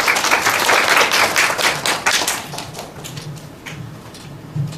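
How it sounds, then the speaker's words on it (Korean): An audience at a Korean philanthropy conference on microfinance claps in welcome, a dense burst of applause that thins out and fades into scattered claps. "여러 박수로 맞아주시기 바랍니다."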